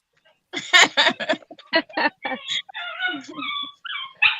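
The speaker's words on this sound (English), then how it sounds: "We're gonna have to open the door for the dog to stop whining" A dog whines and whimpers at a closed door in a series of short, high yips and whimpers up close, while people chat nearby.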